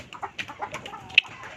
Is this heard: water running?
no